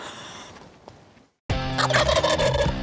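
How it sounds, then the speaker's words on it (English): A wild turkey gobbler during a Kansas hunt lets out a loud, close, rattling gobble after a brief quiet gap, preceded by fainter outdoor sound. "I have no idea how many gobblers we've seen"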